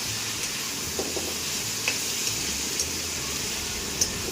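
Ginger paste with ground coriander, cumin and chili frying in a pan as it is stirred, a steady close broadband sizzle with occasional faint scrapes and ticks, no voices.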